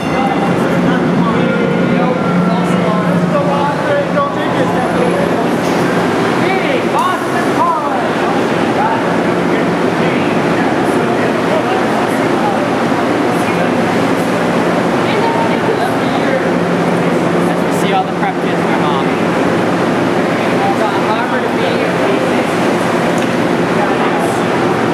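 A New York subway B train roars past in a long, loud, steady rumble with a rushing, wave-like wash of noise, and a few voices are heard under it.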